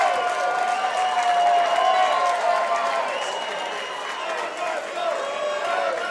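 Big crowd at the IHSA boys swimming and diving state finals in 2017 cheering, a loud sustained roar of cheers and applause with a commentator talking over it.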